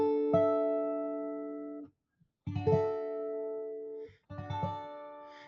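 A major add 9 chord is strummed on guitar three times, each strum ringing clearly and fading before a short silent gap.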